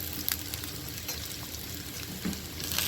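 Cumin, black pepper and curry leaves sizzle and crackle in a hot pan, a steady close frying hiss with scattered sharp pops and occasional stirring scrapes, no voices.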